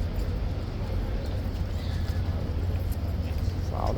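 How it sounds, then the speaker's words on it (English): A large horse of the Horse Guards clip-clops its hooves against steady outdoor crowd ambience and low rumble, the steps close but not sharply separated. "Wow, look at the size of this horse."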